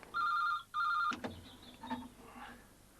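A telephone in a phone box rings with two close, bright double-trill bursts, followed by a clunk and faint handling sounds as the receiver is picked up.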